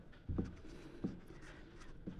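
Pen writing out a maths solution on paper, a few soft separate taps and short strokes, very quiet and close, nobody speaking.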